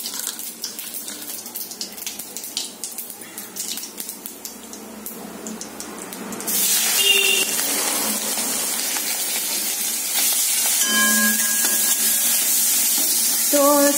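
Cumin seeds and prawns hitting hot oil together with dried red chillies in a home kitchen, a steady hissing sizzle that swells louder partway through and keeps crackling on without pause.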